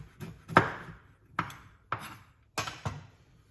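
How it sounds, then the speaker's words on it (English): A knife chops fruit and walnuts on a cutting board, giving five or six sharp, close knocks spaced unevenly apart, each one ringing briefly, with no talk. "Just gonna chop up some fruits, some nuts, walnuts"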